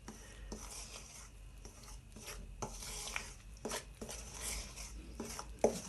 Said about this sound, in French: Je mélange le tout en essayant de bien ramener sur les côtés.